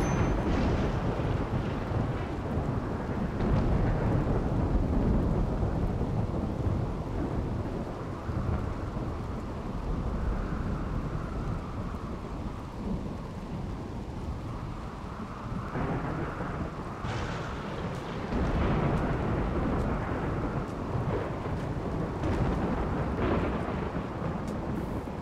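A stormy video-game world gives off steady rain and low rumbling thunder that swells and fades, with wind-like noise and no talking.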